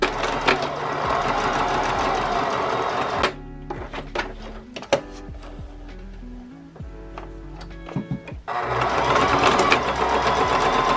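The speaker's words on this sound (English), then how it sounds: "you want to sew all the way to the middle, and then stop, hop over, and sew again" Sewing machine stitching fabric, a fast steady rattling run that stops, gives way to scattered clicks and handling noises, then starts up again loud and close.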